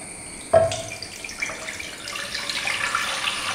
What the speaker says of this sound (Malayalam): പാനിലോട്ട് നമുക്ക് നമ്മൾ എടുത്ത് വെച്ചിരിക്കുന്ന മുഴുവൻ പാലും ചേർത്ത് കൊടുക്കാം.